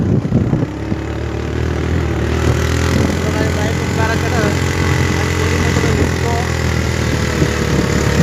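A motorbike engine drones steadily while climbing a hill road toward a hilltop Mahakali temple, loud and continuous throughout, with people talking over it.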